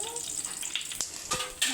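Garlic, cumin and tomato sizzle faintly in a pan, a soft hissing crackle with a few louder pops and stirring scrapes over a brief moment.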